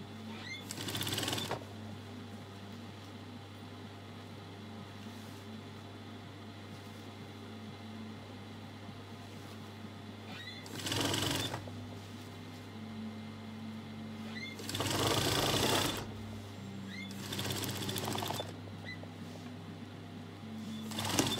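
A sewing machine stitching satin and net fabric together, running in a few separate short bursts over a faint steady hum, with quiet gaps between the runs.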